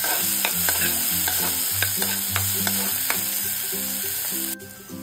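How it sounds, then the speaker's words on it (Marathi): Finely chopped onion and curry leaves fry and sizzle in a pan, with steady crackling and repeated stirring scrapes close by, and no talk. "अगदी बारीक चिरलेला असा कांदा आपल्याला यामध्ये टाकायचा आहे"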